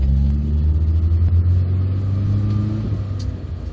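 The engine of a 1968 Austin 1800 Mark II "Landcrab" runs with a steady, loud, deep rumble heard from inside the car, holding an even drone with a slight easing toward the end.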